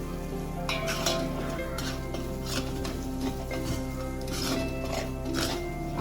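Amti masala paste stirred and fried in oil, a continuous sizzle broken by repeated scraping strokes of a spoon through the thick paste in the pan, close and moderately loud.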